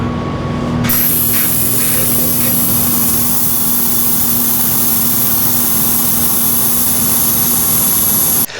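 Compressed air from an airline blasts steadily through the ports of a Holley Brawler carburetor, a loud continuous hiss that kicks in abruptly and holds without a break.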